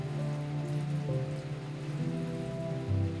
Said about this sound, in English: An enormous amount of rain falls upon this mountain.